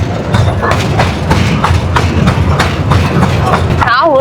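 A crowded mini train rolls toward Elephanta Caves, its wheels clacking in a steady, loud rhythm over the rails, and a brief squeal comes at the end.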